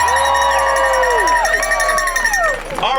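An angry protest crowd in Athens chants and shouts loudly, many voices overlapping in rising and falling calls at close range throughout.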